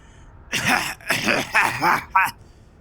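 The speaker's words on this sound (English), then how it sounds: "His excitement sets off a long series of hacking coughs." A run of harsh, hacking coughs from Nod, a character in the game Planescape: Torment: Enhanced Edition, comes in four or five close, rough bursts over about two seconds, loud and near, with no talking around them.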